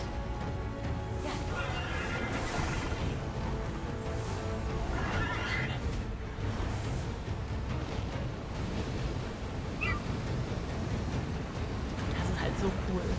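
A horse whinnies while being ridden in the video game Immortals Fenyx Rising, with a couple of short neighs rising over a constant wash of surf-like wind and ambience that runs through the whole scene.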